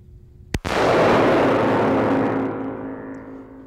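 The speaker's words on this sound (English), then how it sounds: "Put a few rounds into the revolver and take a look and see where we are." A single sharp revolver shot at a shooting range, loud and close, followed by a long booming echo that fades slowly over several seconds.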